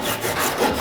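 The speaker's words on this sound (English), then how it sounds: "And finally, the Japanese saw." A Japanese hand saw cuts through a wooden dowel, giving a brief, close, rasping stroke of teeth dragging through wood.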